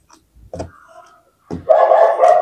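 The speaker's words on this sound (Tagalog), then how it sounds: "pasensya na sa tahol ng aso." A dog barks close by, one sharp bark followed after a short pause by a louder, longer burst of barking and whining, loud and alone with no talk.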